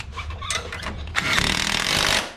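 A 1/2 inch impact wrench works on the axle of a Honda Rubicon ATV, loud and close, with a few short bursts leading into a sustained rattling hammer run near the end.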